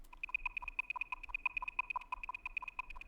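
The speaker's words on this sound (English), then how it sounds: "let's use a pulse wave to modulate the amplitude." Rapid rhythmic beeping from a synthesized tone chopped on and off by pulse-wave amplitude modulation, around eight pulses per second, clean and steady with nothing else audible.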